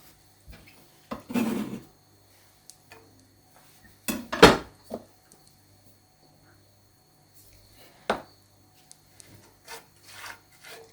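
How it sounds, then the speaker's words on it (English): Ingredients going into a small saucepan over low heat (soy sauce, balsamic vinegar, sugar, garlic and pepper) give a few sparse, quiet scrapes and clinks of utensils against the pan, separated by near silence. "Add in a small saucepan over a low heat soy sauce, balsamic vinegar, sugar, garlic and pepper."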